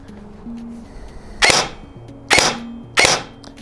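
G&G SSG-1 USR airsoft rifle with a Proline gearbox on a 7.4 volt battery firing semi-auto: three sharp, snappy shots spaced about a second apart, loud and close, with quiet background between them.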